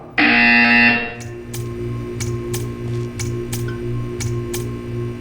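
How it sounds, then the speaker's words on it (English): A loud, harsh electronic buzzer in the game Portal 2 blares for about a second, then cuts off, leaving a low hum with a steady series of sharp ticks. "You will hear a buzzer."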